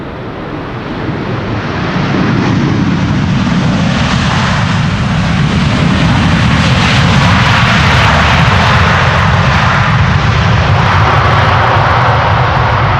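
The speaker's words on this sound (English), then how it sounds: "This is Delta Airlines Flight 90 arriving from Orlando, Florida. It's an A330 Neo" A Delta Air Lines Airbus A330neo, five years old, arrives after a long flight from Orlando, its loud jet roar swelling within the first two seconds and then holding as a steady, broad rumble with some wind buffeting.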